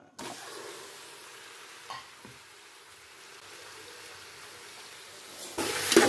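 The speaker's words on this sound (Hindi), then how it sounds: "इसमें हम अच्छी तरह भून लेंगे।" Meat pieces fry with spices for Arabic mandi, making a soft, steady hiss. Occasional scraping stirs sound through it, and the sound grows louder and rougher at the very end.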